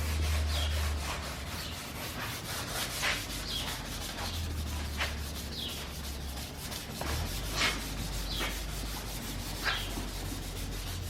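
Sanding a car body panel by hand with 320 grit sandpaper: steady, close rasping strokes in a repeating back-and-forth rhythm with no talking.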